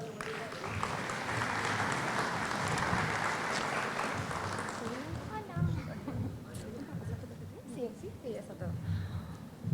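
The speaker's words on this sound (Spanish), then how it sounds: "Le damos la bienvenida con un aplauso, por favor." Applause welcoming a guest at an education forum, a sustained crowd clapping for about five seconds that then fades out as a voice begins speaking.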